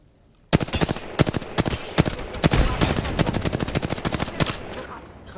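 Gunfire in the Apex Legends video game, a sudden loud stream of rapid automatic shots that holds steady for about five seconds after a quiet start.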